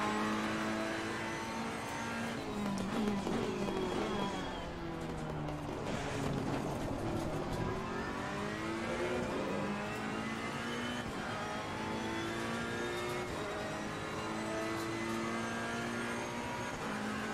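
Race cars lapping Spa-Francorchamps in the Assetto Corsa Competizione racing game: loud, continuous engine drone with rising and falling pitch as the cars rev through gears, with several engines blending together throughout.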